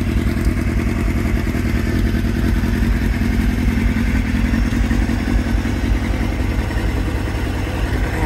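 A 2003 Suzuki GSX-R 600 K3 sport bike runs loudly at a steady idle close by, a constant throbbing engine drone with a rapid mechanical clatter and no talk.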